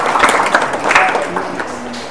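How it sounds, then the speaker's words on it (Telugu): Audience clapping loudly at a devotional talk, a dense burst of applause that gradually thins out over about two seconds. "కొంచెం గట్టి క్లాప్ ఉంటుంది"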